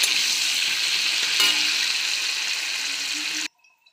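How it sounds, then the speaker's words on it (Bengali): Cashews and raisins fry in hot ghee with a loud, constant sizzle and light stirring, then the sound cuts off abruptly near the end, leaving near silence. "এখন কাজু আর কিশমিশটা ভেজে নেব।"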